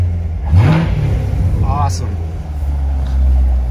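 A 2017 Chevrolet Corvette Grand Sport 2LT with its engine running, a loud, deep, steady idle rumble throughout, close to the listener, while a person speaks briefly over it.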